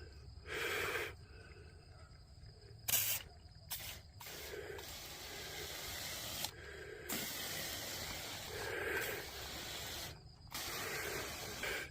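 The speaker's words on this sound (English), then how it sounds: "spray the canvas." Bursts of pump sprayer mist sprayed onto a mouldy canvas in the dark, several separate broad hissing spurts of varying length with short pauses between them, fairly close.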